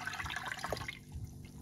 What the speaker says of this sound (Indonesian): tambahkan 800 ml air